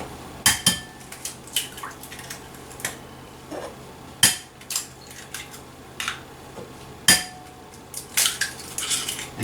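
Four eggs cracked into a bowl, heard as a series of sharp, close clinks and taps against the rim, spaced irregularly, with quiet handling noises in between.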